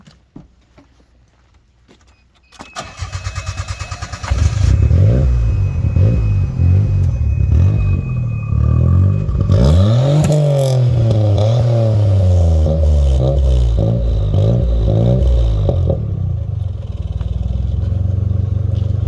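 A turbocharged Geo Metro engine fitted with a muffler starts up and runs, idling steadily and then revving up and down with a rising and falling drone, close and fairly loud throughout.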